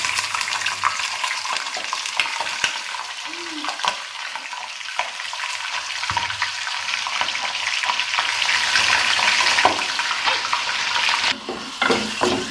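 Chicken and onions sizzle and fry steadily in hot oil in a pot for biryani, a continuous close crackle with occasional stirring scrapes and clinks, no voices.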